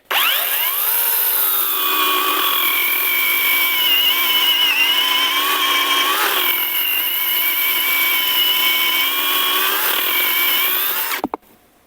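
A ProCraft PKA 42li cordless saw cuts continuously for about eleven seconds, a loud, steady, high-pitched motor whine with slowly wavering pitch under load, then stops abruptly.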